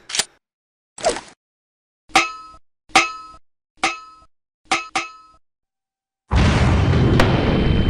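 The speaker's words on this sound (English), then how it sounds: "The grenade blew a hole in the floor." A grenade goes off in a video game: a series of sharp metallic clangs ring out one by one, then a sudden loud, sustained roaring blast fills the last couple of seconds.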